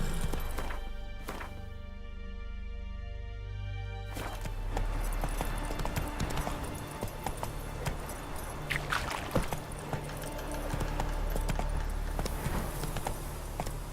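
Hoofbeats of a horse galloping in The Witcher 3 game, a steady clip-clop rhythm running continuously under ambient game sound, with a brief quiet gap near the start.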